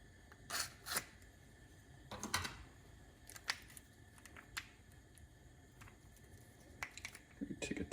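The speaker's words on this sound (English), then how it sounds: "I'm going to actually cut this one open." Instant noodle seasoning packet for potato starch noodles being cut open, with a few sharp close crinkling snips and plastic rustles spaced across a quiet room, ending in a brief burst of handling noise.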